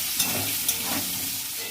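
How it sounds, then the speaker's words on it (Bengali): Potatoes frying in oil in a pan for a soybean curry, a steady close sizzle and hiss with a couple of faint clicks, no voices. "আর এই আলু ভাজছি বন্ধুরা, সয়াবিনের তরকারি করবো।"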